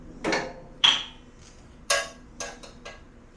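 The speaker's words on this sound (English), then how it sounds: "Just gonna give it a little tap with the hammer, see if I can get it loose." A hammer taps a 14mm wrench on a Kubota BX tractor with about five distinct metallic strikes, each ringing briefly, in an irregular rhythm close up and fairly loud.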